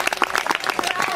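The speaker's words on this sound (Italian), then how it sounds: "per i bambini un altro applauso" Audience applause for children at a pony day event, brisk scattered clapping from a modest crowd, close and fairly loud, short and uneven in rhythm.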